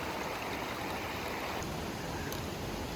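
Stream water on a Vermont hiking trail, swollen with snowmelt, rushes close by in a steady, dense hiss with no pauses.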